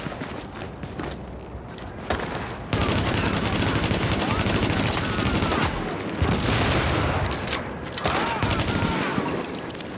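Heavy automatic gunfire in The Division video game, rapid bursts of shots that run nearly continuously at close range, with a short lull before the barrage and brief dips between volleys.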